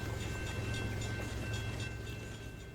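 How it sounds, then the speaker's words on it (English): An oil train in the Rolling Line railway game rolls over a crossing with a low, steady rumble and faint rhythmic rail clatter, heard at moderate volume with no talking. "here's the train heading over crossing"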